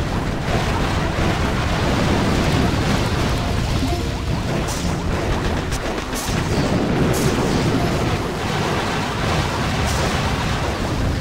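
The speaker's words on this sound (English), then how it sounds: "with those two boom cannons up there" Heavy cannon fire and booming impacts from the Boom Beach strategy game, a dense, continuous barrage of loud blasts and crashes with sharper bursts near the middle, no talk over it.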